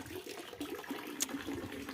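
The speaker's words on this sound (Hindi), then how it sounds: "चलो पानी तो आ रहा है" Water running from a pipe into a tank at an outdoor spot, a steady faint rushing and trickling stream continuing throughout with no talk.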